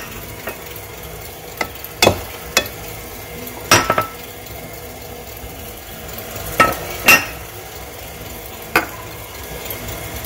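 Dry ingredients, salt and spices being stirred together for banana bread, a faint scraping rustle broken by a few clear clinks of utensil against bowl.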